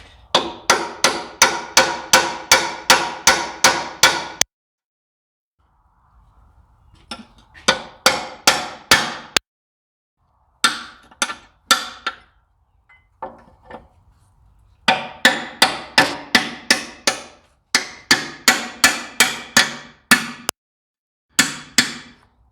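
Repeated metal hammer blows drive a chisel while a Ford 7610 tractor is restored. The strikes come in rapid bursts of sharp, loud, evenly spaced hits with short pauses between groups. No voices are heard.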